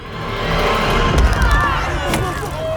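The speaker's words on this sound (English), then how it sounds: "The crowd is all screams and angry shouts" An angry crowd in a Batman story screams and shouts, a dense roar of many voices swelling and peaking midway, with sharp cries standing out and a few clattering hits mixed in.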